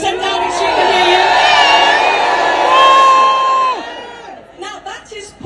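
A large protest crowd at a march booing loudly toward 10 Downing Street, a sustained massed roar of voices with whoops that fades into scattered shouts.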